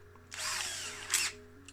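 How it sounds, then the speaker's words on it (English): Electric power drill boring down the centre of the posts on a Matchbox Mercedes 230 SL model car: one steady high whine of about a second, rising briefly near the end, then stopping, close and alone. "I've got my drill here, and I will be drilling down the centre of the posts"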